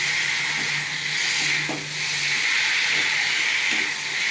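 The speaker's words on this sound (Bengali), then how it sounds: "এবার কাঁচা লঙ্কা দেবো" Green chillies frying in a pan for moong dal with fish head, a steady hiss and sizzle with faint stirring scrapes throughout, no voices.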